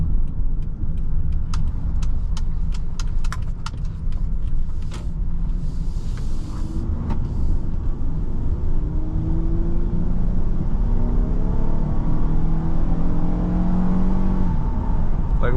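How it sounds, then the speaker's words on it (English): A 2017 Honda Odyssey EX-L minivan engine hums steadily from inside the cabin while driving, its pitch slowly rising as it accelerates, with a few faint clicks early on. "look how good that engine sounds"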